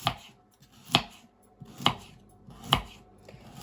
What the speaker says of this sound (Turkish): Pırasalarımızı doğrayacağız. Havucumuzu da doğrayacağız.